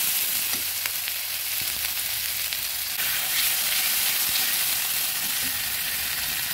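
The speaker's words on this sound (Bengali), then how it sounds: "সামান্য একটু জল দিয়ে নেড়ে দিলাম" Onion paste thinned with a little water is stirred in a pan, giving a continuous close hiss and sizzle with faint scraping. It stays steady with no voices.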